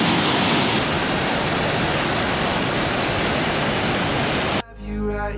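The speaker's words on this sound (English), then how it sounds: "very violent waterfall." A violent waterfall on Île d'Orléans near Quebec City roars as loud, continuous rushing water close by, a dense broadband wash that cuts off abruptly near the end into faint music.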